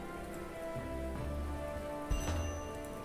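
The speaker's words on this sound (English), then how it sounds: "Now we get rain." Rain patters steadily in the video game Brighter Shores, an even wash of drops with a brief louder splash partway through and no talk.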